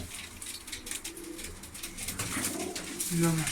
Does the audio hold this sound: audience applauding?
no